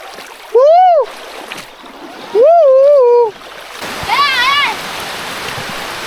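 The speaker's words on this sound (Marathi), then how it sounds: "सुंदर असा पाण्याचा मार्ग" A natural stream runs along a path beside a home, giving a steady, moderate rush of flowing water throughout, with three loud, whistling tonal calls rising above it.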